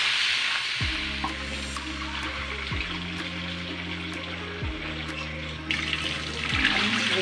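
Water runs and splashes into a cooking pot while salmon sinigang is being prepared, a steady moderate pour alongside repeated low droning hums that start and stop at intervals.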